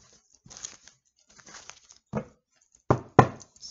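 A tarot card deck being cut and shuffled by hand: a few soft, brief card riffles and slaps at irregular intervals, close and quiet, with silence between.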